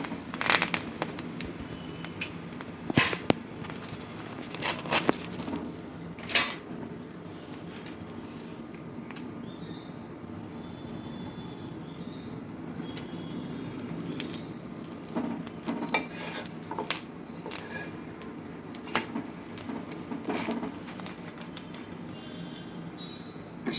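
Pav bread toasting in a pan in a home kitchen, with a steady low sizzle and crackle punctuated by sharp clinks and scrapes of a utensil against the metal pan.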